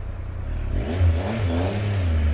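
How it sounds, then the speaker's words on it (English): A motorcycle engine idles and picks up slightly as the rider feathers the clutch during slow-speed riding practice, a steady, close, low rumble with a mild swell in revs partway through. "Practicing on the pegs, slow riding as well, feathering the clutch here, also the front brake and the rear brake."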